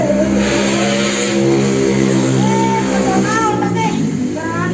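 A Vespa scooter engine revs loudly and steadily nearby in a street on a Saturday night, the buzzing drone rising and falling over a few seconds with voices talking underneath.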